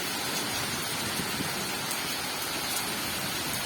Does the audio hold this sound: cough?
no